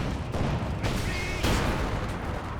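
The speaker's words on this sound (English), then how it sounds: "Cannon Warfare does get a shot there onto the Zis gun" An anti-tank gun fires in a Company of Heroes 2 battle: loud cracking shots and booms burst over a dense, continuous din of gunfire.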